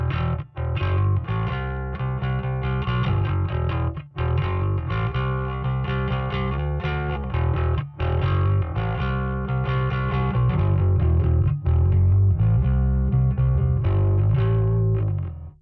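Bass guitar run through a Kemper Profiler amp profile with distortion, playing a loud, continuous riff with brief gaps, heavy and gritty with no talking.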